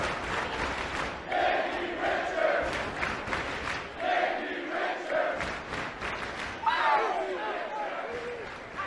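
A New York City crowd at a Ring of Honor pro wrestling event roars and cheers after a wrestler's high-impact move, loud and sustained with swelling shouts, while a commentator talks over the noise.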